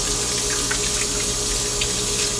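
Warm water runs steadily from a sink tap while car body parts are rinsed, a soft constant stream at moderate distance with no talking.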